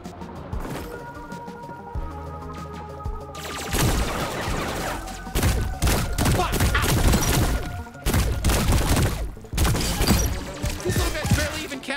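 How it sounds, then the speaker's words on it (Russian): Dense gunfire from the video game High On Life, with rapid shots and impacts coming from all sides, loud and nearly continuous after a calmer opening stretch. "Ого, прям со всех концов меня тут пуляют."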